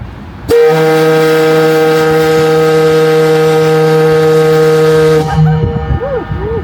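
A steam whistle at Mackinaw City blows one loud, steady, sustained tone for about five seconds, then cuts off abruptly and leaves a brief echo and outdoor ambience.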